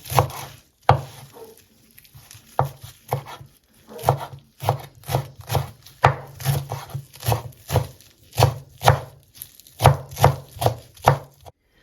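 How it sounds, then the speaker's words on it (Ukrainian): A knife chops fresh herbs such as dill and parsley on a wooden board in a home kitchen, making steady, close, crisp taps in a brisk rhythm that quickens toward the end, with no talking. "Нарізаємо зелень."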